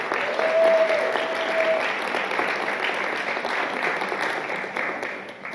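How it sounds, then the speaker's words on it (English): An audience at a school district's State of the District 2024 event applauding administrators, a dense, steady round of clapping that fades gradually, heard alone. "please raise your hand and let's give you a round of applause"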